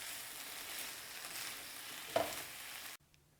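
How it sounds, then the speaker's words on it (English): Zucchini sautéing in a pan with a pinch of red pepper flakes gives a steady close sizzle with one brief louder stir clatter near the end, then cuts to near silence. "we're going to let this just saute for about another 3 or 4 minutes"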